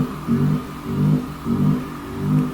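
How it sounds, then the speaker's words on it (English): Car burnout in the video game Yakuza 3 Remastered: a mid-pitched engine revving in four repeated surges, each swelling and easing with a steady droning tone, moderately loud with no talk. "And I'm still hearing burnouts running the front road."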